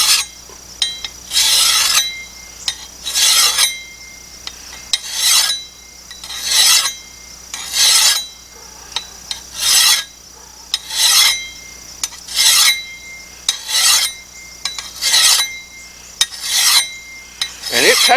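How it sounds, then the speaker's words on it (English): A hand file sharpens the bevel of a garden hoe in steady, evenly spaced rasping strokes, about a dozen bright scraping passes close up with short pauses between them. "you just take your file, you lay it on the bevel so that it lays the same direction the bevel goes"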